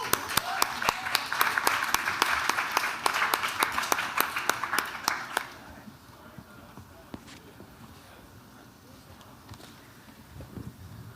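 An audience at an NFT conference panel in New York applauds a panelist coming to the stage, with sharp, distinct claps for about five seconds before it drops to a quiet room with a few stray sounds.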